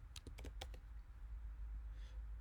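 Keyboard typing at a computer while entering Maple commands: a quick burst of about seven crisp key clicks in the first second, then a low steady hum with a faint soft click near the end.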